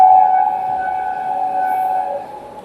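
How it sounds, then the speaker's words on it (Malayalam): A train horn sounds on a curving stretch of track near a level crossing, one long loud steady blast that trails off, heard alone without voices. "ഇത് കണ്ടിന്യൂസ് വളവുള്ള ഏരിയ ആയതുകൊണ്ടാണ് അവർ ഹോൺ അടിക്കുന്നത്"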